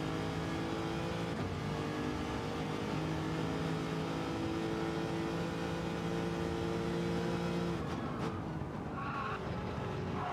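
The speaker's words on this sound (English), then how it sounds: "Rev it out a bit more is what I need to do." Race car engine in Project Motor Racing, loud and continuous with steady harmonic drone shifting pitch through revs and gear changes, with tire skidding and squealing near the end; no talking.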